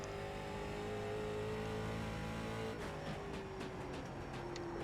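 A late model race car engine in the iRacing sim drones at steady revs, then shifts and climbs with a gear change partway through, a continuous buzzing whine with no voices.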